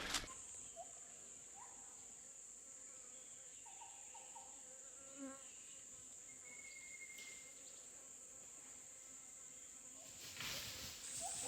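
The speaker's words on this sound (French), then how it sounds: "Je viens de me faire piquer par une guêpe. Ici. Vous les entendez de toute façon tourner autour de moi." Wasps buzz around in a Thai jungle near Khao Sok lake, a steady, fairly faint insect drone with a thin, high whine running continuously from start to end.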